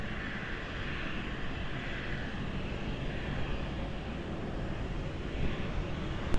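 An airliner taking off at Lisbon Airport, a steady broad engine roar with wind rumble, sustained and moderately loud at a distance without talk.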